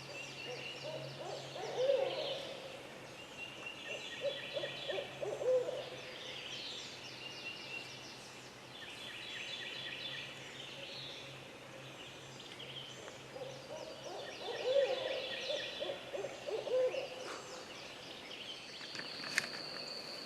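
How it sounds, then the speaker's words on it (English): An owl hoots repeatedly at intervals in a Georgia swamp at morning, over a steady wash of insects and distant birdsong, with a constant low hum underneath. "All that owl hooting, you'd think something would gobble."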